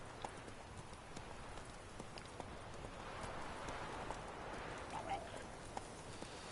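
Roach, the horse in The Witcher 3, gallops in a steady, quick clip-clop of hooves at moderate distance while a person speaks over the game sound.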